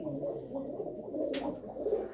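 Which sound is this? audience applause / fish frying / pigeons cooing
pigeons cooing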